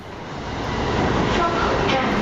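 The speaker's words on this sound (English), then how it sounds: "There's a train." A train rolls past in a Japanese city, a broad steady rumble that swells over the first second and holds loud, with faint rail squeal above; no one speaks over it.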